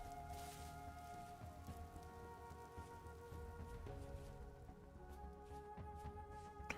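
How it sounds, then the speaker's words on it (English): Rain in the Vintage Story video game, a soft, steady patter of drops over low ambient tones, fairly quiet and continuous. "For a moment there, I thought it sounded like it was about to rain."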